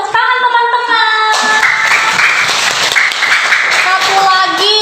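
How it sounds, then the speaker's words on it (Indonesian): Children applauding for a classmate named Belinda, a burst of dense clapping from a group that runs for several seconds amid voices and a tonal sound at the start and end. "Tepuk tangan teman-teman."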